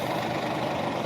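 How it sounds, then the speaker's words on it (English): A fire engine idles nearby with a constant heavy diesel rumble and hiss, steady and loud throughout the short stretch with no talking. "Okay, there's the fire engine."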